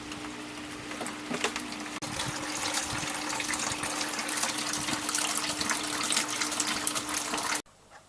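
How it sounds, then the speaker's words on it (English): Bitter wort for a homebrewed IPA real ale pours steadily from an opened tap into a primary fermentation container, a continuous loud splashing gush that runs for several seconds and then cuts off abruptly. "Now I just turn this tap and transfer the bitter wort into the primary fermentation container."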